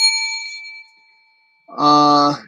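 Bell sound effect dinging twice in a sports results broadcast, a bright ringing tone that fades out, then a louder buzzy clang after a short silence.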